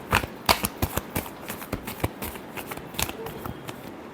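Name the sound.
shuffling tarot cards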